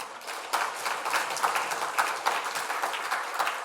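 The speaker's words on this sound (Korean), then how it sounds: "더 뜨겁게 박수 한번 하십시오" Church congregation at a Sunday service clapping together, a moderate, fairly distant patter of many hands with soft rhythmic pulses, steady for a few seconds under the hall's ambience.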